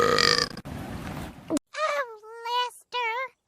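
Several cartoon burps from female characters follow one another, each loud and close, with short gaps of silence and a cartoon voice or effect mixed in between.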